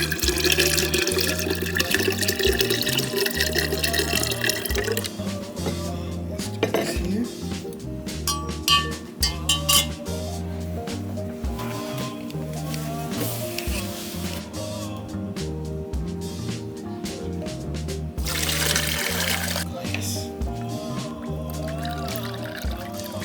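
Water is poured while making basil tea, a close liquid splash and trickle running in uneven stretches with short breaks, and a person talking over it at times.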